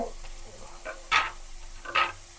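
Chopped vegetables with carrot frying in a pan for street-style egg roll, a soft steady sizzle broken by two louder scraping stirs, close and with no talk.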